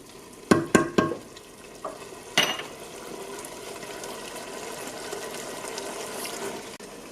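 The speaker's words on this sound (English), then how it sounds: "I'm now going to add the rice to this mixture" Cooled rice for Nigerian fried rice tipped into a pot of frying, creamy mixture: a few sharp scraping clatters, then a steady soft sizzle.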